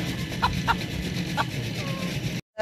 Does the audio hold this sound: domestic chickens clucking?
yes